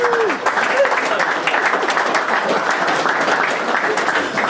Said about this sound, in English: Fantastic, round of applause.